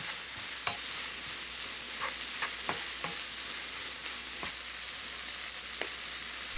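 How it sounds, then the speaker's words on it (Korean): Mashed tofu seasoned with a spoonful of soy sauce for soup stir-fries in a pan with Spam and vegetables, giving a soft, steady sizzle broken by occasional scraping clicks of a spatula, with no talking. "으깬 두부와 국간장 1스푼 넣어 두부가 물기 없이 고슬고슬 할 때까지 볶아주세요"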